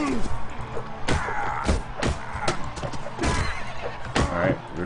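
Horse neighing in Mount and Blade Warband amid a busy fight, whinnies and hoof thuds mixed with sharp weapon hits and slams, while a voice talks over it.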